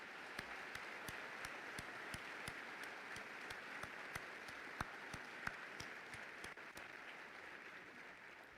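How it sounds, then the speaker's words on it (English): Scattered applause at a military battalion graduation ceremony sounds distant and thin, a steady bed of clapping with a few louder individual claps standing out. "Please, a round of applause for these great patriots."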